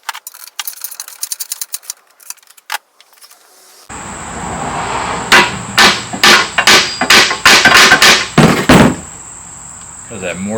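A bolt is tapped into a square mortise on a Walker Turner jigsaw during restoration with about seven or eight sharp metallic taps at a steady rhythm. Earlier clicks and handling noises come before a constant high whine.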